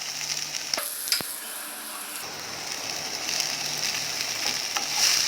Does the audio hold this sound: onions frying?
yes